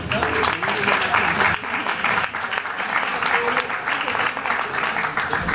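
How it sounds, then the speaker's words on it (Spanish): An audience at a Bogotá earthquake talk breaks into sustained applause, dense clapping holding steady and fairly close throughout with no pause. "Un aplauso, por favor."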